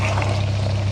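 Water poured into a pot of mutton curry, a steady gushing splash with a low constant hum beneath, close and loud for a brief moment.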